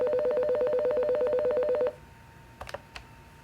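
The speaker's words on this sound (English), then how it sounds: "Example of a voice message alert notification." Phone voice message alert tones: a steady train of rapid pulsed beeps for about two seconds, then quiet with a few brief soft clicks.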